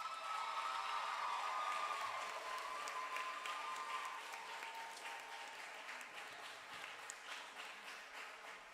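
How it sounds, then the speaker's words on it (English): Graduation ceremony crowd applauds steadily, a broad wash of clapping that starts full and slowly tapers, with a faint tone drifting beneath early on. "Give her another round of applause."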